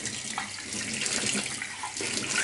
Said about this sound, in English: Get a cup, fill it with that water and rinse the sink out